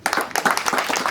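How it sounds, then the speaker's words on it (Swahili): A church congregation clapping for the pastor, with a brief burst of quick, uneven hand claps from a crowd that is close and fairly loud. "Makofi ya kilo"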